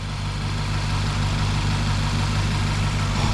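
Deep, steady idle from the 4-liter twin-turbo V8 of a 2020 Porsche Panamera GTS, a close, continuous low burble holding an even pitch with no throttle blips and no voices.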